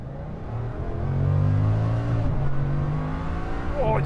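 A Bugatti Chiron Super Sport accelerating hard, a deep engine roar rising in pitch and holding strong, with a gear-shift dip partway through, heard from inside the car.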